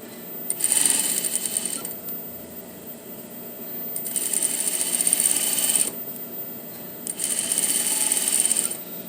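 A sewing machine stitches the seam of a puff sleeve in three steady whirring runs, each a few seconds long, with brief pauses between them, close and fairly loud.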